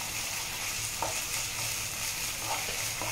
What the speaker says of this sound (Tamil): இது இஞ்சி பூண்டு நல்லா வதக்கிடுங்க.